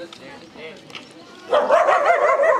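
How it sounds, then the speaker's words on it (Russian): Angry dogs bark on a road leading to a botanical garden in Balchik, Bulgaria, their loud, overlapping yips and barks building after a quieter start, with people talking nearby. "Какие-то собаки. Песики злые."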